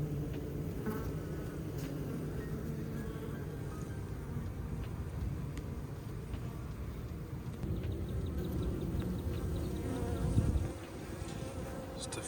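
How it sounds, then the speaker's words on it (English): A honey bee swarm buzzing as the last bees cluster on a cheap bucket trap, a dense continuous drone from many insects nearby, steady throughout with a brief louder swell near the end. "just a few last little hanging, clustering bees, finally starting to get the message"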